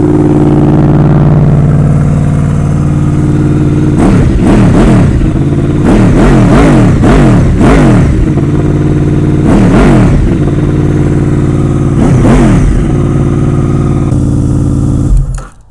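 Honda CBR 600 inline-four with aero headers and a slip-on exhaust alongside a Honda VFR V4, loud idling with a series of sharp close revs rising and falling in quick bursts, then cutting off at the end.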